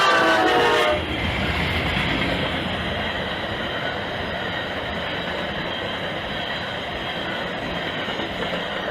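A CN freight train led by the CN 8952 Grand Trunk heritage locomotive: a close, loud horn blast cuts off after about a second, followed by a heavy, continuous roar of passing cars with rattling and clatter.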